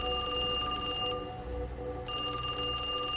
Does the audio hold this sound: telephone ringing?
yes